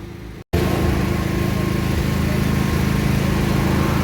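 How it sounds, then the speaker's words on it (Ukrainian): A power generator's engine drones steadily and loudly in wartime Kyiv during a blackout after a brief cut, a constant buzzing hum close by with no talking. "Усюди працюють генератори"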